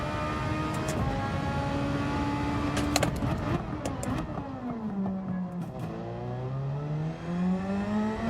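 A race car in Gran Turismo 7 revs up out of a corner, its engine note climbing and falling as it accelerates, loud and close with no talk over it.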